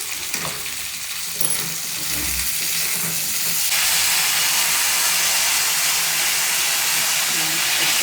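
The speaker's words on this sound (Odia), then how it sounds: "ଏବେ ପିଆଜ ପକେଇ ଦେଇ ଟିକେ ଭାଜିଦେବା।" Onions sizzle and fry in a hot pan on a gas stove, a steady loud hiss that swells fuller partway through, with faint stirring and soft background voices.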